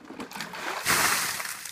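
A bucket of ice water dumped over a person, a brief loud splash and splatter rushing down in one burst, close by, with a short lead-in of rustling.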